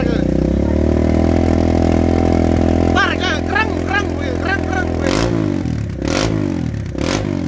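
Kawasaki KLX 150 supermoto fitted with a Norifumi RV1 exhaust idles loudly, then rises into several sharp, close revs with bursts of throttle, while a voice speaks over the idling engine.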